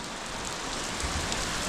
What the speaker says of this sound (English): But I did not beat the rain, unfortunately.